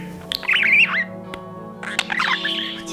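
A budgie gives shrill squawks and warbling chirps in two close, loud bursts separated by a brief pause, over a steady low background hum.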